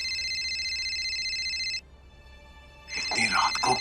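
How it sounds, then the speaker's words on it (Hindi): A telephone rings late at night in a Hindi TV drama scene with a steady electronic trill for almost two seconds, stops, then a voice begins speaking close by. "इतनी रात को कौन फोन कर रहा है?"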